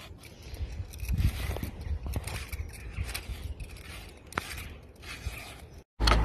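Parsnips being peeled by hand, heard as repeated soft scraping strokes in an irregular rhythm, close by, ending with a brief cutoff and a thump.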